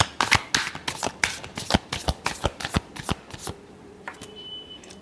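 Tarot cards being shuffled in a rapid run of crisp riffling slaps and flutters, close and fairly loud, stopping near the end before a faint tonal hum.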